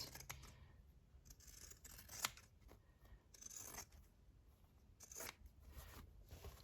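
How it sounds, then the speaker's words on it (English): Pinking shears trimming fabric corners and curves for a baby clutch sewing project, giving quiet, crisp snips at irregular intervals, close by and faint, with no speech. "I'm just using my pinking shears."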